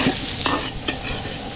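Garlic and onion sauté in butter in a pan, a steady sizzle broken by a few quick stirring scrapes over the short stretch.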